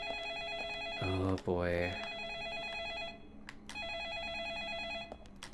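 A telephone in the game Deadly Premonition rings in repeated electronic trills, with a short spoken exclamation and a rising burst of game sound breaking into the rings between them.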